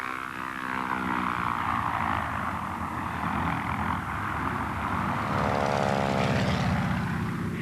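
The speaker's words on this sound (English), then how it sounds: "we developed the Ford Trimotor plane" A Ford Trimotor three-engine propeller airplane flies past, a loud, sustained propeller drone with a throbbing, rising and falling pitch as it moves overhead.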